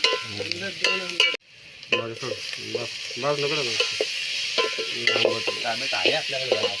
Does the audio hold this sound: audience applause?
no